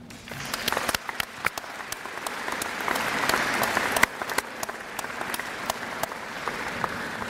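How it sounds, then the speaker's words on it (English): Sustained applause from an audience at a college athletics awards ceremony, a dense wash of hand claps lasting several seconds with a few sharper individual claps standing out, fairly steady and close. "Applaud yourselves for your excellent efforts."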